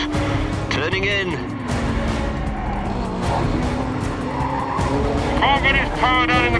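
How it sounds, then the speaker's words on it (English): An Ariel Atom V8 race car's engine drops sharply under hard braking as tires squeal and skid into a corner, loud and close, with a voice talking over it. "Hard on the brakes. Turning in."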